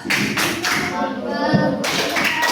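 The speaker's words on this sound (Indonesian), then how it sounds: "Oke, tepuk tangan dulu untuk kelompok" Steady clapping from a classroom group fills the whole stretch, dense and close, with a short dip in the middle before it picks up again.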